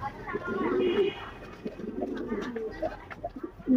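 A domestic breeding pigeon with fine feathers gives soft, repeated throaty coos close by, rising and falling in short phrases while someone talks over them.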